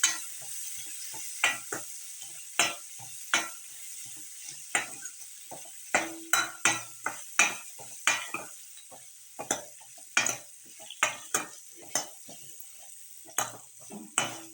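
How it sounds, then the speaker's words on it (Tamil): Radish and shallots sautéing in a pan for sambar, a soft steady sizzle broken by repeated sharp spatula scrapes and taps against the pan at an uneven rhythm, close and without talk. "தேவையான அளவுக்கு இதுலேயே வதக்கிட்டு"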